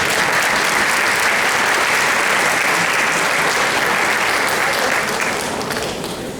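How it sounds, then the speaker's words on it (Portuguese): A church congregation applauds during a Portuguese-language service, loud sustained clapping from a large crowd that fades slightly toward the end. "Eu gostaria que você fizesse algo mais do que aplaudir."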